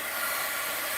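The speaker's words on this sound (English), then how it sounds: "Heat gun alert." A heat gun running at a craft table while working on art journal papers, a steady close blowing hiss that holds evenly at constant loudness with no talk.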